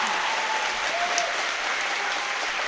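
Spectators at the 33rd European Kendo Championships clap loudly in a dense, sustained round of applause that holds steady throughout, with no voices standing out above it.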